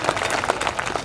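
Audience applause at a Hindi kavi sammelan poetry recital, a dense burst of many hands clapping fairly close and loud, continuous for the whole second with no speech.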